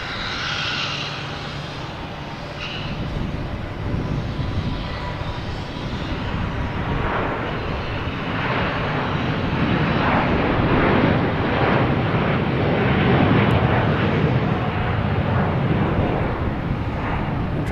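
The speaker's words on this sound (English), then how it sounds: "next takeoff, we have a Delta heading to Amsterdam" A Delta jet airliner takes off from Boston Logan for Amsterdam. Its engines make a continuous broadband roar that grows gradually louder and rougher, with some wind buffeting on the microphone and no clear speech.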